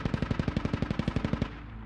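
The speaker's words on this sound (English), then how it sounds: "As we hear that now, opening fire." Automatic weapon fire in the military shooter game Squad: a rapid, even burst of around twenty loud shots in quick succession that ends abruptly and leaves a fading echo, with no talking.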